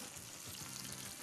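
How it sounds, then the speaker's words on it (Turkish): Oil sizzles and crackles steadily as breadcrumb-coated onion rings fry, a dense, even hiss heard up close without talking. "galeta unumuzla hemen kızartmaya başlıyoruz"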